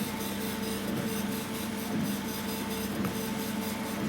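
A laser engraver runs at 200 millimeters per second, giving a quiet steady hum with a faint mechanical whir and small periodic ticks as the head moves.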